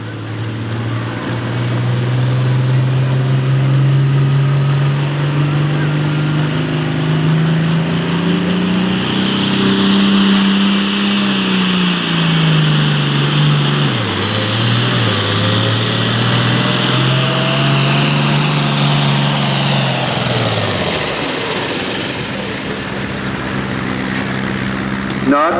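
A pulling tractor roars steadily under load while dragging a heavy sled down the track at a Boonsboro tractor pull, its pitch climbing and then sagging as power fades near the end; an announcer talks over it.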